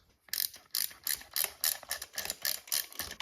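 A wrench ratchets in quick repeated bursts while cylinder bolts on a Harley top end are snugged down in a cross pattern, the sharp clicking close and fairly loud with short pauses between strokes.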